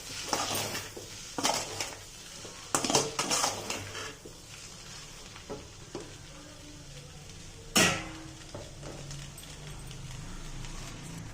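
Pasta being stirred in a cooking pan, with repeated close scrapes and clanks of a utensil against metal over a soft sizzle, in uneven bursts with quieter pauses, plus one sharp loud clatter.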